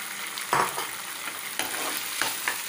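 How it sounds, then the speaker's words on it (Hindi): Vegetables tossed into a hot pan and stir-fried, a steady sizzle broken by several sharp scraping stirs and clanks of the spoon, close and clear with no talking. "अब इसके अंदर थोड़ी वेजिटेबल्स डाल देंगे"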